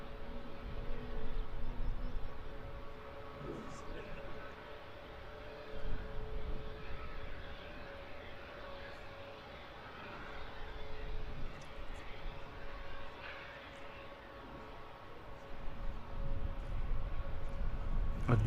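A Ryanair Boeing 737 MAX 8 taxis slowly at London Luton Airport, its engines a faint, steady distant whine and hum beneath a quiet outdoor background.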